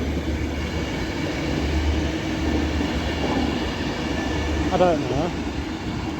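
An Avanti West Coast train rolls into Stafford station on the West Coast Main Line with a steady loud rumble, wheels clattering and squealing briefly, while a person speaks a few words nearby.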